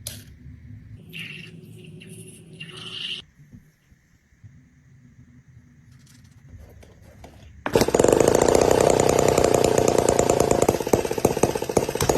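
A 1/8-scale model of a single-cylinder aircraft engine, only 2.6 cc, starts up after quiet mechanical clicks and fiddling. Its buzzy, rapid, high-revving exhaust rattle then runs loud and steady to the end.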